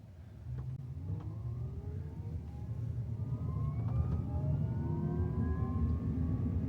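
A Tesla Cybertruck driving in the early morning, a steady road rumble with rising and falling motor whine that grows slightly louder as it gathers speed.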